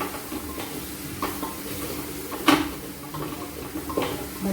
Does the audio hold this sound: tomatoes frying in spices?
yes